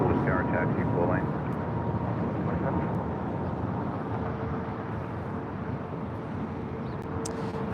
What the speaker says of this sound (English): Next departure here on the south side is JetBlue Airways Flight 624. It's an A321neo.